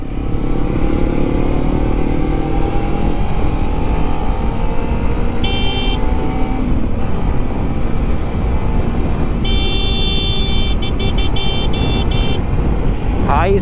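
A Kawasaki Ninja motorcycle accelerates with a loud, steady engine drone throughout, mixed with road traffic, brief horn toots and occasional voices.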